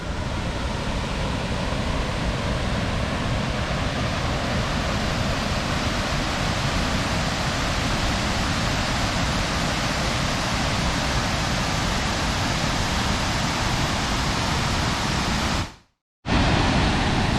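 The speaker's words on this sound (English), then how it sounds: "Alright, Big Clifty Falls, 60-foot drop." Big Clifty Falls, a waterfall with a 60-foot drop, pours in a loud, steady broadband roar that stays constant throughout, then cuts off briefly near the end and resumes, with no voices.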